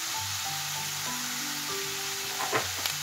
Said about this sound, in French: Pendant que ma viande est en train de cuire